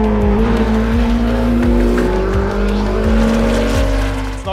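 Porsche 963 LMDH race car with a twin-turbocharged 4.6-liter engine, loud and close, revving through repeated upshifts with rising engine pitch and tire noise.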